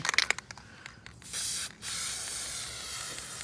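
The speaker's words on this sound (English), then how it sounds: "So let's give it a spray." Two short hissing bursts from a spray can of oil onto a Yamaha WR250R air filter, close and fairly quiet, after some light clicking and handling noises.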